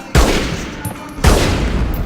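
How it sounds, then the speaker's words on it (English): Gunfire and explosions in the PS2 game Reservoir Dogs: two very loud blasts, each a sudden booming burst followed by a dense, crackling roar that fills the space, very close and dominant. "The explosion isn't even louder than shooting a bag."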